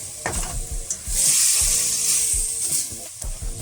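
Chopped pork stew ingredients sautéing in a pan, a steady bright sizzle swelling loudly with occasional stirring scrapes and clunks, close up with no talking.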